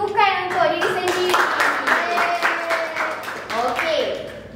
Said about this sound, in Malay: beri tepukan untuk diri sendiri